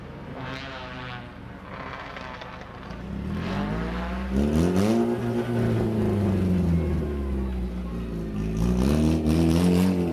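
The number 56 compact race car drives into victory lane at a heat race, its engine droning loudly and steadily, rising and falling in pitch as it revs, with faint voices underneath.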